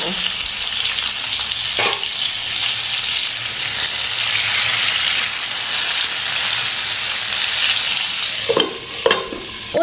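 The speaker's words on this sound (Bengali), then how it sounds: "তারপর ওই তেলের মধ্যেই এই যে পটল আমি আগে থেকে কেটে ধুয়ে পরিষ্কার করে নুন আর হলুদ যে মাখিয়ে রেখেছিলাম সেই পটলগুলো ভেজে নেব" Pointed gourd pieces rubbed with salt and turmeric fry in hot mustard oil, giving a loud, steady, close-up sizzle that fills the scene, with a few stirring scrapes near the end.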